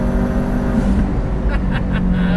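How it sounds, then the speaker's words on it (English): Triple-turbo McLaren engine revving hard while climbing uphill, a loud, dense, continuous roar close by with a steady throbbing growl and a few short whooshing bursts near the end. "Listen to the sounds it makes."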